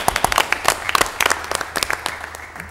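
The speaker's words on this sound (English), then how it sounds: "Let's give them another big round of applause." Applause from the audience at a Mobile, Alabama city council meeting, a steady patter of many hands clapping close by for nearly three seconds, irregular sharp claps over a dense crowd wash.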